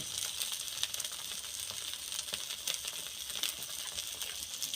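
Pointed gourd (potol) fries in a pan with a steady, close sizzle and faint crackle, continuous throughout with light stirring clicks and no voices.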